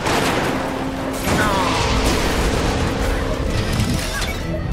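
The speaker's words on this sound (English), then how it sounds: "Machine guns acquired." Machine gun fire in the Cars 2 video game, a loud continuous rattle of rapid shots layered over engine roar and crashing game effects, with no clear talk.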